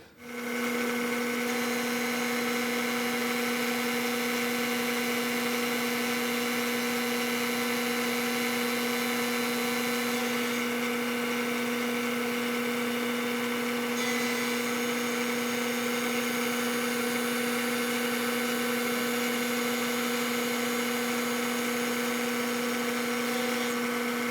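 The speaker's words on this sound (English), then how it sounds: "High-speed 1/2 inch end mill, 2 flutes. It's going to do about 25 passes all the way around." A milling machine cuts metal with a high-speed 1/2 inch two-flute end mill, giving a loud, steady, tonal whine and grinding hum that carries on without a break, close up and with no talking.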